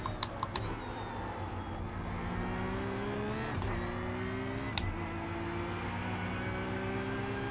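Porsche GT3 race car engine in iRacing at Phillip Island: a steady engine drone with brief throttle blips lifting the revs, plus a few sharp clicks and taps, moderate level, no talk.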